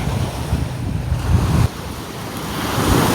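Ocean surf rolls and washes continuously along the Oregon coast, a loud, steady roar of breaking waves mixed with gusty wind buffeting the microphone, with no voices present.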